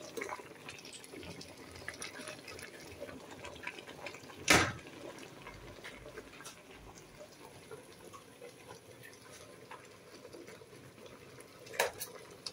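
Boiled baby squash lifted piece by piece from a cooking pot: a sharp metallic clack of utensil on the pot near the start and another near the end, over a low wet kitchen background with faint clinks.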